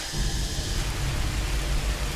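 Heavy rain pours down in the mountains of Laos in a dense, continuous roar, loud and close, with no voices.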